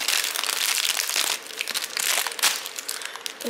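A turquoise plastic gift packet crinkles loudly and close up in a dense, continuous rustle, easing slightly toward the end.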